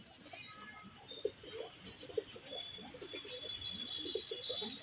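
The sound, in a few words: pigeons cooing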